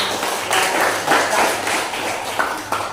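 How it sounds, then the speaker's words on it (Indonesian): Students in a classroom break into applause, a dense burst of many hands clapping at close range, steady for a few seconds then tapering. "kasih aplaus dulu buat teman-teman yang"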